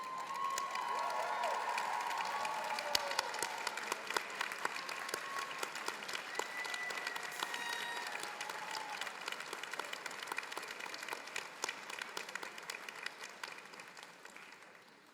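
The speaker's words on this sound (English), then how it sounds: "please rise so that we can applaud you for your significant contributions to our graduate" A large audience at a 2024 University of Minnesota Medical Laboratory Science and Occupational Therapy commencement ceremony breaks into sustained applause, dense even clapping with faint cheers that carries on without speech.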